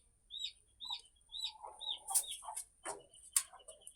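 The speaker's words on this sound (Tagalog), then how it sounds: "At maingay yung aking sisiw." Small chicks chirping noisily in a rhythmic series of high, fairly close peeps, with a few clucks and a brief flurry of louder chirps mixed in, no talking.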